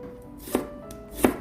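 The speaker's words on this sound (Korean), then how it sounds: "양파를 채 썰어주세요." Two crisp knife cuts through an onion on a cutting board, about 0.7 seconds apart, close and distinct against a quiet background.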